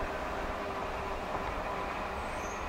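A Norfolk Southern freight train rumbles by at a steady roar, broadband noise with a low rolling hum and no voices.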